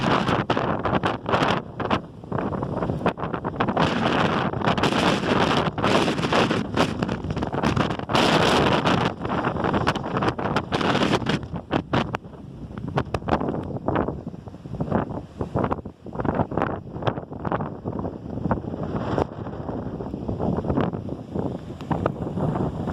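Strong wind roars continuously across the beach at Praia do Rosa, Imbituba, buffeting the microphone with loud gusts that surge and ease throughout, no voices heard.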